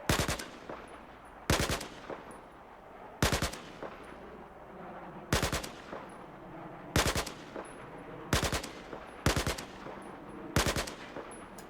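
Burst-fire gunshots fired at long range in the video game Battlefield 4, with seven loud, sharp bursts spaced about every one and a half seconds, each trailing off into a rumbling echo over a steady ambient background.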